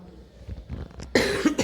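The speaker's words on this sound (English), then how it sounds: "I'm having cough as well." A woman coughs several times in quick succession, close and fairly loud, ending in a sharper, harsher burst of coughing after some softer throaty sounds.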